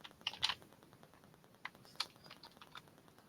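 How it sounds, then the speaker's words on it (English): Typing on a computer keyboard: quiet, uneven bursts of light key clicks up close, with short pauses between keystrokes. "Let me type it."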